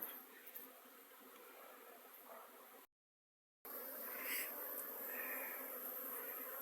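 Steady, dense buzzing of many Buckfast honeybees on an orientation flight nearby, continuous and fairly faint, broken by a brief silent gap.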